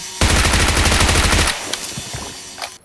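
Rapid automatic gunfire in the PUBG Mobile shooter, a loud, dense burst of closely spaced shots lasting over a second, then a few scattered softer shots and clicks.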